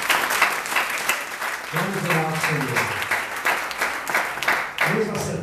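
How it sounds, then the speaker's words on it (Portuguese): A church congregation claps and applauds for Jesus, the dense clapping running steadily through the clip while a voice speaks over it. "Dá uma salva de palmas ao Senhor Jesus"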